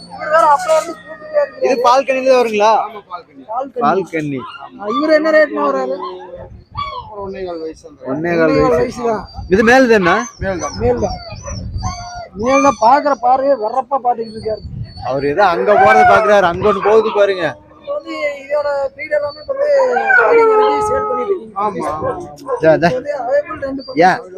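Native dogs howl at a livestock exhibition during the 2023 Coimbatore agricultural fair, with long, wavering cries mixed into steady nearby conversation that runs throughout.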